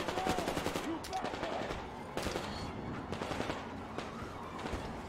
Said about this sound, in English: Anna's just shooting everyone.